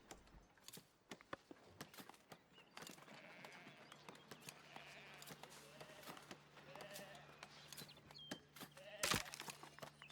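Wild sheep bleating in a forest settlement in the building game Foundation, several short faint bleats scattered over soft hoof clops and quiet ambient background.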